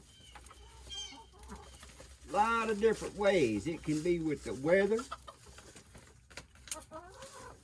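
Backyard hens cluck in a loud, warbling burst lasting a few seconds, close by, with someone talking before and after and softer clucks trailing at the end.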